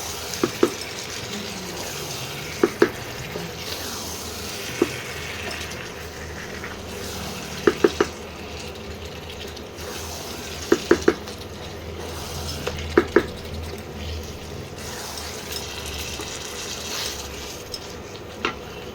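Lamb pieces are stirred and fried in a pan at home: a continuous low frying hiss broken by repeated sharp scrapes and clacks of a spatula against the pan in irregular clusters, close and without talk.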